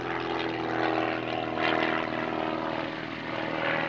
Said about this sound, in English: the aeroplane's climbing